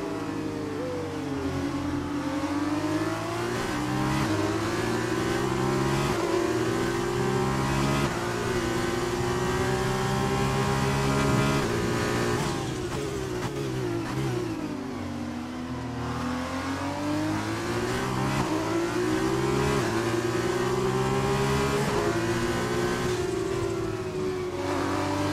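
Several F2 race cars battle closely for points at a round in China, their engines revving hard and overlapping as they accelerate and shift, loud and sustained without commentary.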